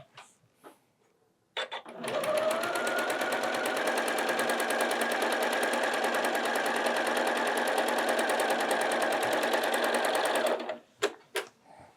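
A sewing machine stitches the Kitty's Garden quilt in one steady, fast run of about nine seconds, with a few soft clicks and handling noises before and after.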